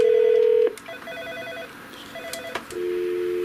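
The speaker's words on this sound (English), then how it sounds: "And now it's a dial tone out here." A loud, steady Norstar telephone system external-line dial tone hums, stops for a moment with a few clicks and faint tones, then resumes and holds to the end.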